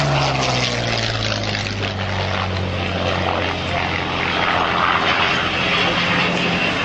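A post-war Yak fighter fitted with a radial engine passes at an air show, its loud droning propeller roar holding throughout with a slowly falling pitch as it goes by.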